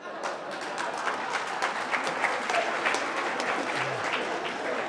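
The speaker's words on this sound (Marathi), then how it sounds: "पुन्हा एकदा टाळ्या वाजवा" Steady, dense audience clapping in a hall after a Marathi speech by a retired High Court judge, sustained at even loudness for the whole stretch without voices standing out.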